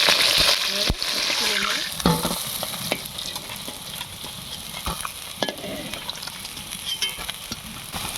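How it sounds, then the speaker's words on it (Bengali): Siphon fish sizzling in hot oil, with louder spatters early on and occasional stirring clicks as the frying settles into a steady crackle. "এইভাবে আমি বাকি মাছটা ভেজে নেব"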